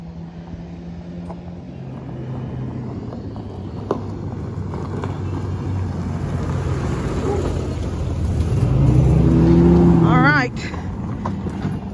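A big pickup truck pulling a stock trailer rumbles closer, its low engine drone building and revving louder before cutting back to a steady idle.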